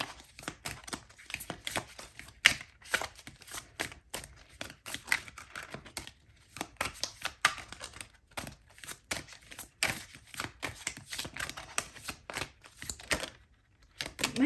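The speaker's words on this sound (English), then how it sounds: "My shuffling's so weird." Tarot cards being shuffled by hand, a quiet run of crisp irregular riffles, taps and flicks, close and soft with brief pauses between bursts.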